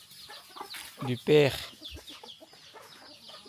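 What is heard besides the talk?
chickens clucking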